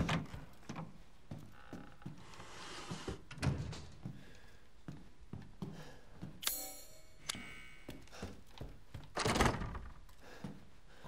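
A locked door in the video game Resident Evil Village rattles and thunks against its frame, with several short, dull knocks and clatters in an irregular rhythm. Fairly quiet, with no talking.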